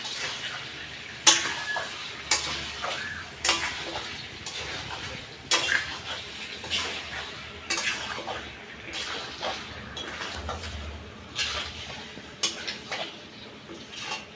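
Chicken drumsticks with salt stir-fried in a pan: repeated rhythmic scraping strokes about once a second over a faint, low sizzle, close and moderately loud.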